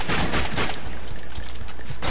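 Rapid gunfire from The Darkness II, a dense, loud burst of overlapping shots filling the whole two seconds with no talk over it.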